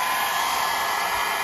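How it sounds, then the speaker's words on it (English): A hair dryer blows steadily at close range onto a wet Westclox Big Ben style 7 clock movement, giving an unbroken, even whoosh of air with no other sound. "We're gonna turn our hair dryer on."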